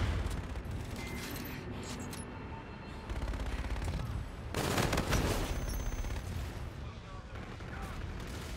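Sustained automatic gunfire from a gun in the Call of Duty: Infinite Warfare video game forms a dense, loud roar of rapid shots and blasts that swells midway, with busy battle noise throughout.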